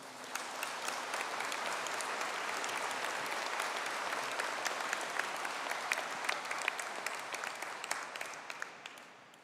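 Sustained audience applause at a university engineering graduation ceremony fills the space, many hands clapping steadily for several seconds at an even, moderate level, with no speech.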